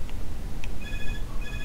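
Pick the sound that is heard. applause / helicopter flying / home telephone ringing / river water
home telephone ringing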